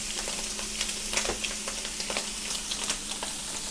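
Bacon and bread frying in a pan, a steady dense sizzle and crackle held close and constant, with small pops scattered throughout.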